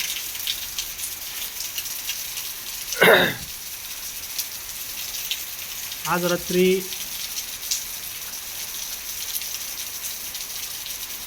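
Heavy night rain pouring steadily in Beed district, a dense continuous hiss with brief bursts of speech and a short rumble over it.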